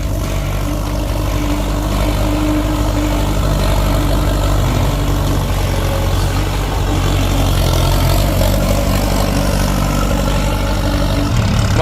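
Tractor engine laboring steadily at low revs, about 1,200–1,300 rpm, in its lowest gear while plowing through thick grass; a loud, continuous close-up drone with no talk.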